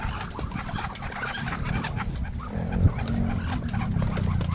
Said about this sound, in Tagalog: Meron tayo dito yung mga manok na maitim